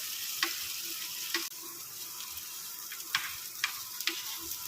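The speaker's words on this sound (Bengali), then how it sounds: "উল্টে দিয়েও আবার আর এক পিঠটা ভালো করে ভেজে নেবো" Paneer fries in a pan with a soft, steady sizzle, broken by a few sharp pops and taps as the pieces are turned over to crisp the other side.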